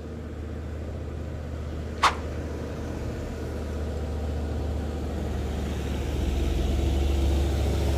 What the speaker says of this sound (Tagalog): Hirap na hirap yung malalaking sasakyan.